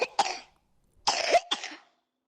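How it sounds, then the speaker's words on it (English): A sick child coughs in two short bursts, a single harsh cough and then a pair of quick coughs, close and clear with quiet gaps between. "Tabitha is coughing a lot"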